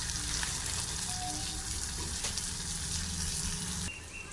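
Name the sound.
chopped onion frying in prawn oil with spices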